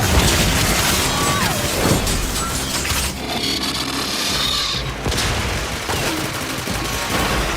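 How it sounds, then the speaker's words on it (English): Heavy artillery fire and booming explosions in a Warframe battle, loud and continuous with crashing impacts throughout and little pause between blasts. "Fire the artillery!"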